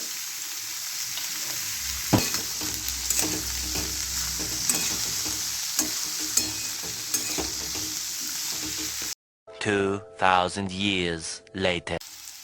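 Potatoes and cauliflower frying in a pan with turmeric, chilli and salt, heard as a continuous close sizzle with regular spatula stirring scrapes; a voice talks after the frying cuts out.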